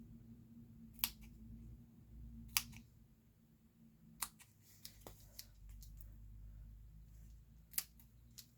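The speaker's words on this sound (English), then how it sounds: "I'm just going to cut some strips from here." Scissors snip through small strips of paper at a craft table, five or six sharp separate cuts spaced about a second apart over a low steady background hum.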